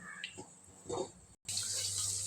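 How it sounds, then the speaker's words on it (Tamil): Rice is rinsed in water for chicken biryani, with brief splashes and swishing followed by a steady rush of running water after a short break. "நம்ம வந்து அரிசியை கழுவிட்டு போட்டுற வேண்டியதான்"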